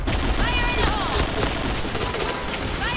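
A rapid volley of gunfire from the first-person shooter Point Blank keeps up a close, continuous crackle of shots for the full three seconds.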